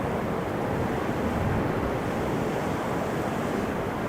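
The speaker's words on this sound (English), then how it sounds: "Still fairly blustery." Strong, gusty westerly wind at an airport, roughly 22 knots, a steady broadband rushing roar buffeting the microphone, with no talk.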